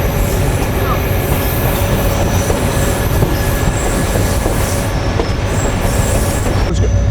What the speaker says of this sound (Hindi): ये है जी खूबसूरत भावलपुर रेलवे स्टेशन।